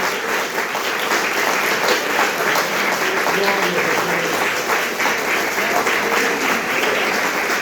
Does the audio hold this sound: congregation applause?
yes